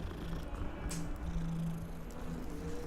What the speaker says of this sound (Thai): อุ้ยแมว เป็นผีแมวเหรอ